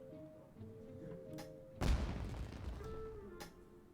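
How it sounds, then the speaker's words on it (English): A single heavy firework blast bursts in a Genshin Impact scene, a sudden loud boom with a rumbling decay and crackle, preceded by quiet game ambience and a faint later pop. "Was that an explosion? It sounded like fireworks."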